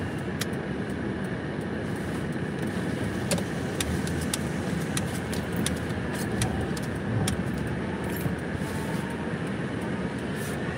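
A stuck front-wheel-drive car straining in place: a continuous loud engine drone with wheel-spin noise, close and steady, with brief clicks and knocks over it throughout.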